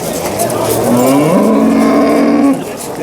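A cow at the Piskent cattle market moos loudly in one long, rising and falling call lasting about two seconds, close by, over a steady backdrop of crowd noise and market chatter.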